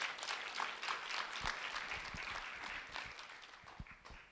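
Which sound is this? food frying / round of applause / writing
round of applause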